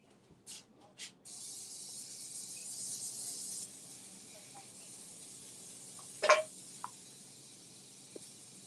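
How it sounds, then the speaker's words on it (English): Olive oil cooking spray hisses onto a pan in a steady burst of a couple of seconds, preceded by two short puffs and followed by a few faint kitchen clicks. "I'm going to spray my pan."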